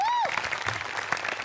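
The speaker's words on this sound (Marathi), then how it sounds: "सो तुझ्या प्रयत्नांसाठी एकदा टाळ्या व्हायला." Studio audience applause at a Marathi comedy show breaks out right after a short rising tone, a dense, close burst of clapping that carries through to the end.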